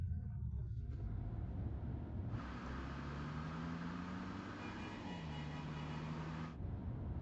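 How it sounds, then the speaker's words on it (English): A car engine drones low and steady close behind, with a sustained hum that rises and shifts pitch slightly as the vehicle keeps pace, while a quieter rumble runs underneath. "there seems to be a car following us"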